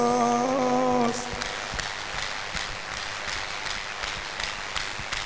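A congregation at an outdoor healing crusade breaks into brisk, sustained clapping for Jesus after a brief sung or spoken tone at the start, many hands clapping in a loose fast rhythm.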